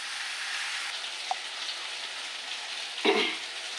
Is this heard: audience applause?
no